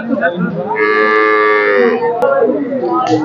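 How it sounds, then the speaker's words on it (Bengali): A large cow at a Bangladeshi livestock market gives one long, loud, drawn-out moo up close, set against faint market chatter. "হাটের মধ্যে সব থেকে বড় গরু"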